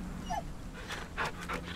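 A dog in a video game pants in quick, close breaths and lets out a short, high whimper, all within under two seconds.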